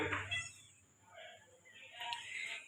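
Persian kitten of Peke bloodline with a double coat, meowing in a few soft, faint cries spread across a few seconds, with some low background noise.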